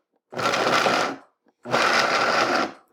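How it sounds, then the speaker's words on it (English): Vitamix blender pulsing sourdough bread into breadcrumbs, two short, loud whirring bursts of under a second each, separated by a brief silent pause, with chunks rattling inside the jar. "if you're using a Vitamix, just throw it on like 5 and then pulse"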